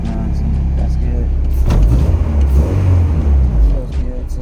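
A car engine revving after its sticking throttle was adjusted, a loud low rumble that swells and settles while someone talks over it.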